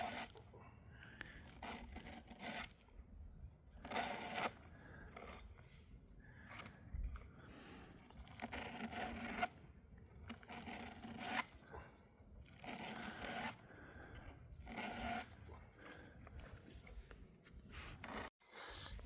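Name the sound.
filing to sharpen a saw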